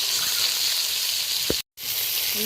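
Eggplant pieces fry in hot oil seasoned with salt and turmeric for a fish curry, giving a steady loud sizzle with one short clatter and a sudden brief gap of silence.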